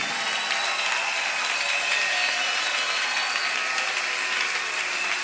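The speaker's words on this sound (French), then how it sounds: "On n'acclame pas pour quelqu'un d'autre, mais on acclame en honneur de Jésus" A church congregation claps in honour of Jesus, a dense and even wash of many hands that stays loud and unbroken the whole time, with no speech over it.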